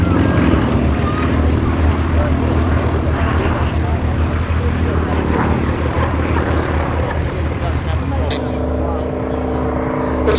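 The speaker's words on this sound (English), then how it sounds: "Peter Borchert flying this fantastic aeroplane, which he built himself." Homebuilt Super Beech light aeroplane taxiing at an airshow, its engine and propeller giving a loud, steady droning roar throughout, with a brief change in tone near the end.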